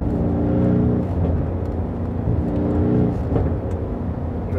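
A Mercedes GLC 63 S AMG V8 engine drones steadily with a deep, throaty exhaust rumble, swelling in pitch twice as it accelerates, heard close up from inside or beside the vehicle.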